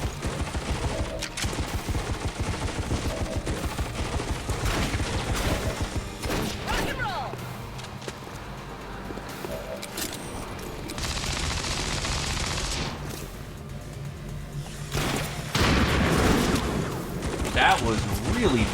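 Rapid bursts of automatic weapons fire and single shots from the tactical strategy game XCOM 2 rattle through a battle scene, shifting between dense volleys and quieter stretches of game ambience.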